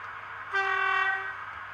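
A single sustained horn blast from a locomotive, a steady harmonic tone lasting under a second that then fades out, heard alone over a low background hum.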